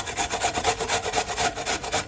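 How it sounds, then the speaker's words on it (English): Fresh unpeeled ginger root rubbed against a grater for strong cold-remedy tea, a steady close rasping in quick even back-and-forth strokes, with no talking. "I'm just gonna grate some of my ginger,"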